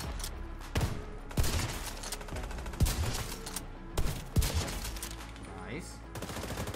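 Sniper rifle shots in The Division 2 ring out as about five sharp, loud cracks spaced irregularly across several seconds, each trailed by a short echo, with a player voice talking between them.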